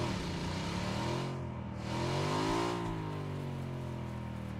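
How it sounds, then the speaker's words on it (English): A small motorcycle engine in the video game PUBG drones steadily with a rising and falling rev, heard alone at moderate distance without speech. "Got a vehicle behind us, right? A little motorcycle? Hear it?"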